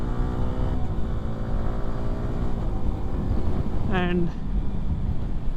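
Yamaha R15M motorcycle with a quickshifter pulling hard, its engine droning in rising harmonic tones with a sharp rev climb near the end, a voice speaking over the ride.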